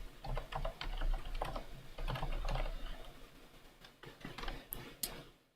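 Fingers type on a computer keyboard during a live coding session, a quiet run of irregular clicks and taps in bursts with short pauses, close up and alone.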